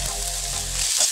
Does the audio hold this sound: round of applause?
no